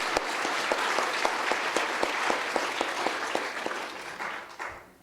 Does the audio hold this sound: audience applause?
yes